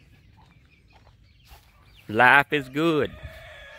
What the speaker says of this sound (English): Still got a bunch of more yard roosters running around